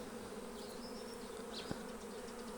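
Honeybees busy at a hive after the frame grid is lowered, a steady close buzzing hum that runs throughout, with one brief knock partway through.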